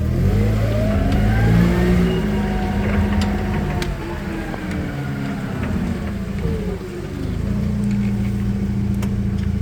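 A 2018 Toyota 02-8FGF25 gas-powered forklift pulls away from a warehouse yard and accelerates, its mid-pitched engine note climbing and holding steady at close range with no talk over it.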